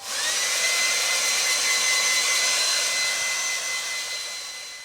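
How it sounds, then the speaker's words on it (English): Hairdryer blowing on a watercolour painting of a snowy lane, a steady high-pitched whirring rush of air that starts abruptly, holds close and loud, then tapers slightly near the end. "you'll not have to watch me as I wield my hairdryer"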